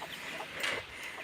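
Chickens clucking behind chicken wire on a rural South Dakota farm, a few soft, quick clucks close by over a steady outdoor hiss.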